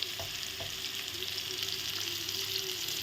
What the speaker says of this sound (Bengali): এখন একই তেলে ভালো করে ভেজে নেব